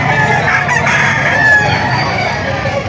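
A rooster crows loudly and close by at a livestock auction market in Padre Garcia, Batangas, one sustained, strained call that fills the moment over faint background murmur.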